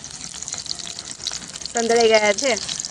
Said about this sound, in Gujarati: હવે ટામેટાને આપણે ફેરવી લઈશું. જુઓ સંતળાઈ ગયા છે.